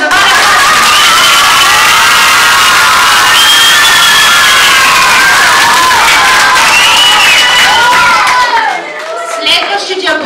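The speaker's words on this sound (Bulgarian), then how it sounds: "Аплодисменти искам сега да чуя за вас." A loud crowd of children cheers, shouts and claps continuously at a New Year's celebration, with high excited voices layered over dense applause.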